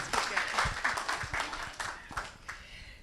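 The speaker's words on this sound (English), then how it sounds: "I think a round of applause" A small conference audience at a neglected tropical disease NGO network meeting claps in a scattered, uneven burst that thins out after a few seconds.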